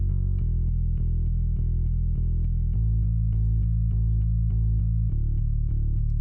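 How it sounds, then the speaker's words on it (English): Sub bass layered under an electric bass in a beat, a steady deep rumbling low end with plucked bass notes changing pitch every few beats, continuous and dense with no talk. "When you mix it with the other bass, it's gonna sound like this."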